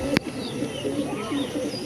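Hazarwala pigeons coo softly in a low, throaty murmur, with one sharp click or tap near the start and faint higher chirps above a steady background.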